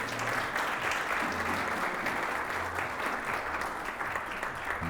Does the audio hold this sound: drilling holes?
no